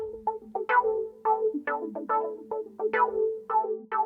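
A synth line run through an Arturia Filter M12 on its Acid Blade preset plays short plucky notes with squelchy, sweeping filter modulation, each note bright at the attack and quickly closing, moderately loud and alone.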